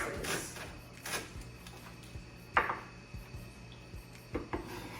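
A knife slices a North Georgia candy roaster squash into thin pieces on a board, a few scattered crisp cuts and scraping knocks, close and quiet with no talking.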